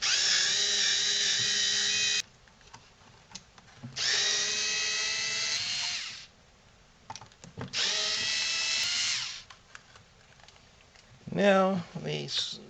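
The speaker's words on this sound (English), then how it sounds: "So now we'll take these screws off." Power drill or driver backing screws out of a Cricut EasyPress 2 heat press during a repair, three whirring bursts of about two seconds each with pauses between, followed by a short rising-pitch spin.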